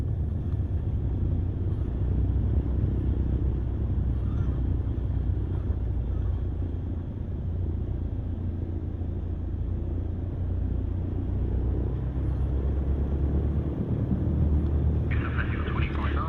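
An aircraft in a flight simulator game decelerates on the runway after landing with a steady low rumble of engine and rolling noise, holding loud and constant, while a voice talks over it.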